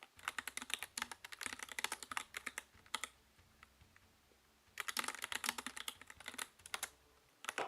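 Quick bursts of computer keyboard typing at a Hellish Quart tournament, clustered clacking keystrokes with a pause in the middle, close and crisp with no talk.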